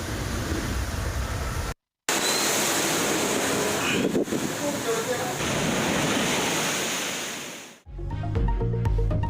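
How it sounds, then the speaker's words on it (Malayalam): Rough sea surging against the coast at Thiruvananthapuram and Kollam in Kerala makes a loud, continuous roar of crashing waves. The roar breaks off briefly once and gives way to music at the end. "തിരുവനന്തപുരത്തും കൊല്ലത്തും ശക്തമായ കടലാക്രമണം"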